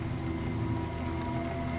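Steady rain on a stormy night, a soft, continuous patter on surfaces that holds evenly at low level throughout, with no voices.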